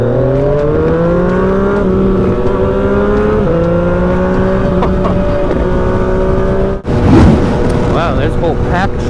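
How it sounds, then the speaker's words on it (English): Lamborghini SVJ supercar accelerating on a road, engine note climbing in loud, rising sweeps close by, ending in a burst of wind-buffeted noise. "Indeed, a Lamborghini SVJ."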